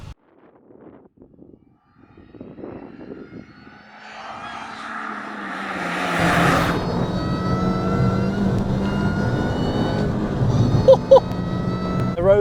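A supercharged Mini Cooper JCW sets off on a drive along twisty roads, its engine note swelling from quiet to a loud, steady drone with a rising whine. A brief voice is heard early on.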